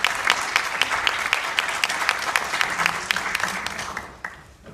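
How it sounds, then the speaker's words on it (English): Steady applause from a sizable crowd at a CenteringPregnancy grand opening at Mercy Health Youngstown, dense clapping throughout that thins and fades toward the end. "I think they're applauding you, Dr. Beck."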